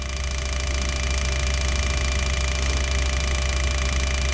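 Bench test rig cycling V12 Jaguar fuel injectors at just under 3 bar, giving a steady, close, continuous buzzing clatter with a fast even ticking texture throughout and no pauses.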